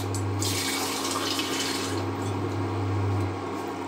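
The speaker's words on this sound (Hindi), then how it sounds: "आधा गिलास पानी डालेंगे हम इसमें।" About half a glass of water is poured into a pot heating on the stove for a homemade hair dye, a close, loud splashing pour in bursts over a steady low hum.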